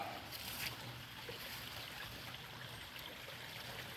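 A small creek on a farm flows steadily, giving a faint, continuous outdoor wash of running water with no distinct events.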